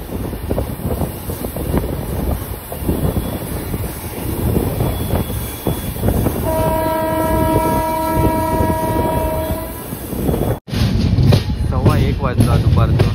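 The 22659 Yog Nagari Rishikesh Express pulls into Vasai station on the Konkan Railway. A loud rumbling roll runs throughout under wind buffeting on the microphone, and a sustained horn blast sounds near the middle.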